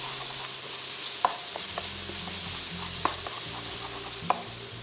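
Ginger and garlic sizzle steadily in hot oil in a wok for mapo tofu, a soft constant hiss broken by three sharp scrapes of a spatula stirring, close and with no talking.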